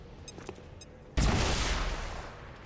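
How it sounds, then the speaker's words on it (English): A grenade goes off in the XCOM 2 video game, a sudden loud blast after a few quiet clicks, followed by a rumbling roar that slowly fades. "Toss a grenade."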